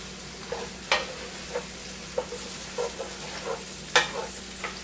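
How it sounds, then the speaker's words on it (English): Yellow and white onions sauteing in a pan for chicken gumbo, a soft steady sizzle punctuated by about a dozen distinct scrapes and clacks of a spoon against the pan. "The yellow and white onions are what I'm doing first. Just let them saute down a little bit."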